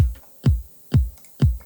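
Kick drum sample from a basic house track's drum pattern, thumping four times at a steady half-second pulse, each hit a deep punchy boom with a quick pitch drop, loud and alone.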